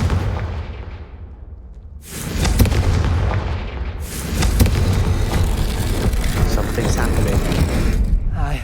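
A Confringo fire spell in Hogwarts Legacy, a deep booming blast that erupts loudly after a quieter stretch, followed by another heavy rumbling burst and sustained crackling, close and dense, with a voice speaking.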